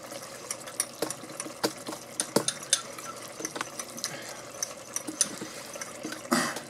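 A spoon stirs a cornstarch or arrowroot slurry in a cup, giving quick irregular clinks and soft liquid swishes. Close, quiet and alone.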